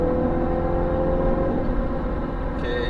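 A Mini Clubman Cooper S gives off a steady, blended engine and exhaust drone, a continuous close rumble that holds evenly throughout with no voices.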